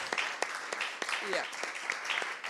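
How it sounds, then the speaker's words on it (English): An audience at a conference event in Trieste applauds, with steady clapping throughout and a voice speaking briefly over it. "A big applause to them."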